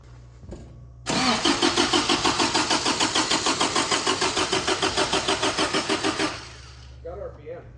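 A 1980s turbo Toyota truck engine cranks in a fast, even rhythm for about five seconds, loud and close, then goes quiet without clearly catching; people talk briefly before and after.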